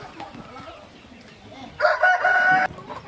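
A rooster crows once, loud and fairly close, over faint background chatter and farmyard ambience on a farm in Bohol.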